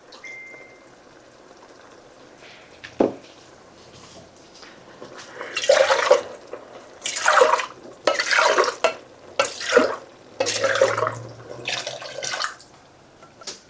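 Half a can of water poured into a cooking pot, heard as several splashy bursts of pouring and sloshing close to the microphone, separated by brief pauses, with an earlier faint clunk and a low hum in the background.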